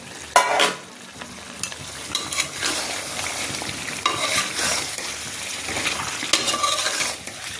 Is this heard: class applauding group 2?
no